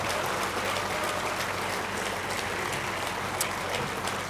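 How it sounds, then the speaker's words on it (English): A convocation audience gives a steady, dense applause, a continuous wash of many hands clapping that fills the hall evenly from start to finish. "Give them a thunderous applause as a sign of gratitude."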